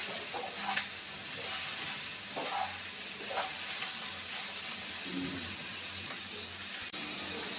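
Bitter gourd (karela bhaji) stir-fried in a pan, a soft continuous sizzle and hiss with occasional scraping stirs, quiet and close, with no talking.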